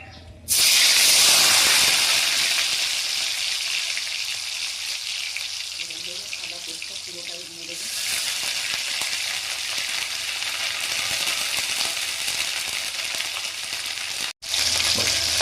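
Tomato hits hot oil with blackened whole cumin tempering for a fish curry, a loud sizzle that flares up and then settles into a steady hiss, with stirring clatter partway through and a brief break near the end.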